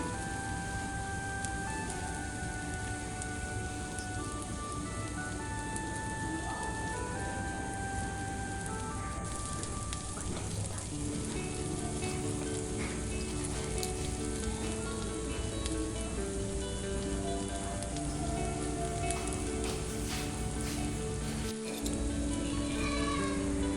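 Palm fruit fritters (tal bora) sizzle in oil, a steady close hiss and crackle that runs unbroken with faint tonal background sounds and no talking.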